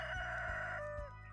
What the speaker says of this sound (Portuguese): Eita, canta, galo.